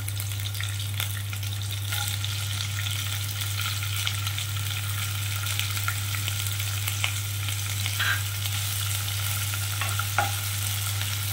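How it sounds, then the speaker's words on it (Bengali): Onion fries in hot oil with a steady, close crackling sizzle and occasional pops, over a constant low hum from the stove. "আমি তেলটার মধ্যে পেঁয়াজটা দিয়ে দেবো।"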